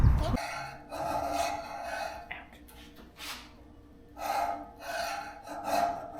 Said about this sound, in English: Got her using a file.